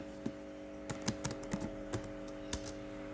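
Keys on a computer keyboard tapped to enter a command in AutoCAD, a handful of separate clicks spread irregularly over a few seconds against a steady electronic hum.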